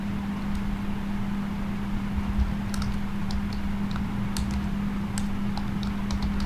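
Soft, irregular keystrokes tap on a computer keyboard in quick, scattered bursts, faint and close over a steady low electrical hum.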